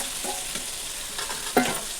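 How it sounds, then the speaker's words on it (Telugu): Chicken fries for biryani in a pan over a stove, giving a steady sizzling hiss with a few soft stirring scrapes and one sharper clink near the end, close and moderately quiet, without speech. "చికెన్ అనేది మనం ఫ్రై చేస్తూనే ఉండాలి, అడగంటద్దు."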